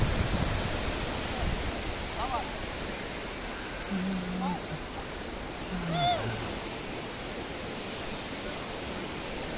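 Sea waves breaking on the beach at Scheveningen in The Hague, a constant wash of surf noise with swelling rolls, and faint distant voices or calls drifting over the top.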